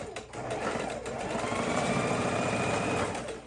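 Pieces of a pinwheel quilt block are being stitched on a sewing machine, which hums in a steady, continuous run from start to finish, close and clear with no talking.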